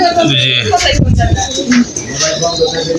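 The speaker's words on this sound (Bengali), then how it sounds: "এখন কবুতরগুলো দেখা যাচ্ছে দুই ভাগে ভাগ হয়ে গেছে" Pigeons coo softly up close while feeding from a hand, low throaty calls mixed with faint chirps and rustling, with a voice talking over them.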